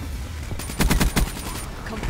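KN44 assault rifle fire in the video game Black Ops 3, a quick burst of about five rapid, punchy shots in a tight rhythm, loud and close over steady game background noise.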